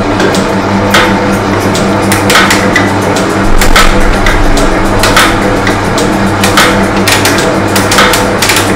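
A metal shaper machine runs as its ram drives across the workpiece, giving a loud, steady mechanical clatter. Repeated knocking strokes keep a regular rhythm close by, with no talking.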